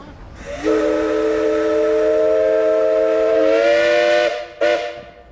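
A Minneapolis steam traction engine blows its steam whistle in one long, loud, steady blast, then gives a short second toot outdoors at a steam power show parade.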